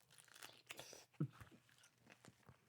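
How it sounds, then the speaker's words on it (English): Pineapple slices being eaten for breakfast, with close, wet munching and a few sharper crunchy bites, quiet overall with one louder chomp partway through. "There's a lot of munching going on."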